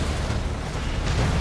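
A grenade explosion in the video game Death Stranding, a dense, loud rumbling blast that fills the whole moment with sustained booming energy.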